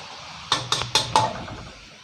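A metal pan lid is set onto a pot while Thai stir-fried holy basil with mackerel cooks. Four quick metallic clanks come close together, then fade into quiet kitchen background.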